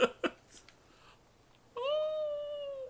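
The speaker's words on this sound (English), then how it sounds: "It's a kitty. Oh, you can hear that little whimper." A cat in a video game lets out a single drawn-out, tonal meow-like whimper near the end, after a few brief sharp sounds and a quiet stretch, clear and fairly close.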